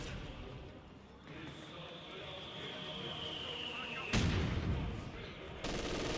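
Machine gun fire and battle noise from the Company of Heroes 2 real-time strategy game, a 2v2 match with two MG teams and a mortar team placed, running as a steady dense clatter with louder bursts near the end.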